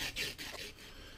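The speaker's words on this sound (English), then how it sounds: "we're just going to sand away at it for a little bit." Short, quiet rasping strokes of sandpaper rubbing against a metal 1911 pistol part, a few back-and-forth passes.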